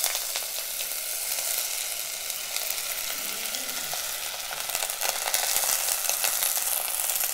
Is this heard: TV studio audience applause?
no